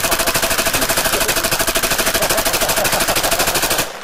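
A Tippmann X7 Phenom paintball marker fires on full auto in one long, loud, close burst of rapid, evenly spaced shots. The burst lasts about four seconds and then cuts off.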